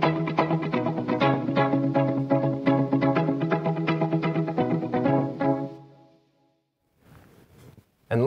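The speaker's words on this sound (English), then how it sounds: "I'm going to use a rotary speaker sound" Electric guitar run through an Eventide ModFactor pedal on a rotary speaker setting, a close, busy run of rhythmic chord and note strikes with a swirling tone that fades out near the end, followed by brief faint noise.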